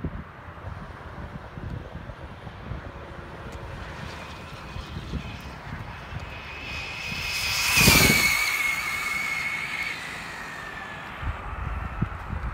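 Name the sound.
Traxxas Slash RC car driving back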